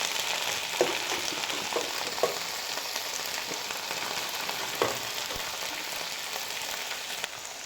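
Fenugreek leaves with onion sizzle and fry in a hot pan, a steady crackling hiss with a few scattered louder pops and stirring clicks throughout, no voices.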